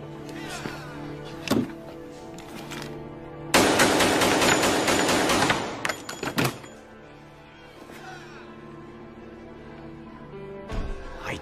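Sustained burst of automatic gunfire in an action film scene, a dense rattling volley lasting a couple of seconds amid a tense music score, with scattered single shots and impacts before and after.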